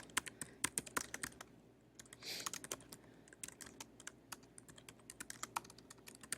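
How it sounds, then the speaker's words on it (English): A chart title is typed on a computer keyboard, with quick, irregular key clicks close up and a brief burst of denser tapping partway through, heard alone without talk. "you can actually type in the chart title."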